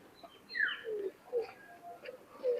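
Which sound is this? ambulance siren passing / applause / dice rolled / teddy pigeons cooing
teddy pigeons cooing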